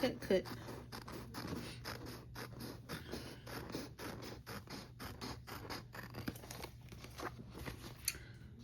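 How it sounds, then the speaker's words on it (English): Scissors snipping around a paper notebook cover design, a rapid series of close, crisp cuts in a steady rhythm over a faint background hum. "just cut all the way around your design"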